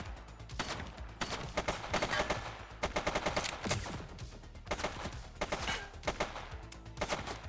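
Rapid gunfire bursts crackle through a cutscene in The Precinct, a police video game, with sharp repeated shots and automatic volleys sounding close and steady throughout, no voices over them.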